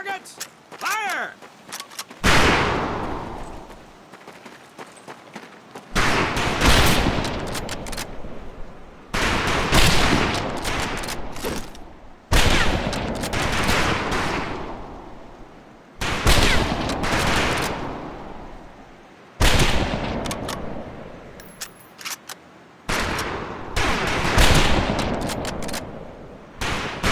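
Rifle fire on a military firing range in the video game Medal of Honor: Pacific Assault, a series of loud sharp volleys of several shots each, repeating roughly every three seconds with brief quieter gaps between.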